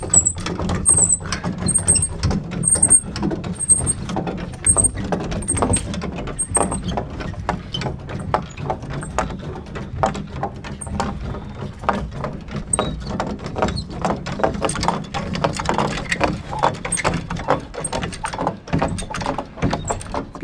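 A wall jack is ratcheted in a steady run of sharp metallic clicks while a framed wall is raised. The clicking carries on for the whole stretch, close by, and no one speaks.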